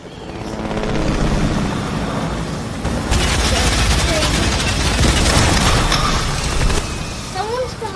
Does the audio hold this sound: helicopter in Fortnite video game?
yes